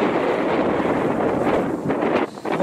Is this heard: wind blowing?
yes